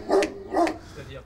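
A nervous guard dog, a powerful mastiff-type kept in a cage, lets out two loud, close barks about half a second apart, followed by a softer trailing sound.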